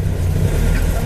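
Loud, steady low rumble of a 1966 Triumph Herald engine idling close by while the car sits in reverse, with a heavy, vibrating drone and no voices.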